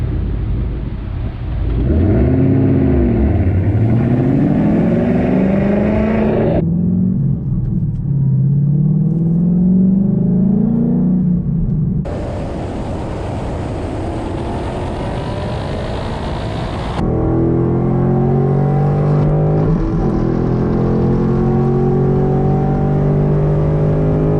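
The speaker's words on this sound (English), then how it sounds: "We're gonna give it a test drive on a NASCAR track." A car laps a NASCAR track in a driving game with a loud, continuous engine roar. The pitch rises and falls through gear changes and shifts abruptly between segments.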